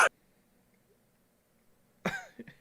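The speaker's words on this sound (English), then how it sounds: "We're coughing him to death." A single sharp cough at the start, then near silence, then a fuller burst of coughing and throat clearing close to the microphone.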